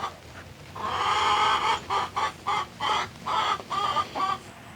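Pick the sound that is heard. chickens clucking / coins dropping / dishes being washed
chickens clucking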